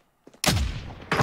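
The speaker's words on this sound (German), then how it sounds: "Schuss" A video game gunshot: one sharp, loud blast with a brief decaying rumble, followed by a second report right after a short pause.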